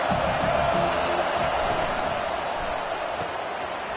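Broad stadium crowd roar from a college football video game fills the air as a steady, loud wash of cheering noise, fading slightly over the few seconds with no distinct claps or calls standing out.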